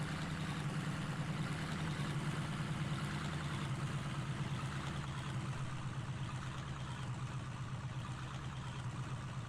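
A truck engine in the Snowrunner game labours in low gear with the diff locked, a steady low pulsing drone that bogs down under load, moderately loud and continuous with no voices.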